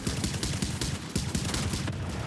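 Rapid pistol gunfire in a video game firefight, a dense run of sharp repeated shots with booming low impacts, loud and close with no pauses.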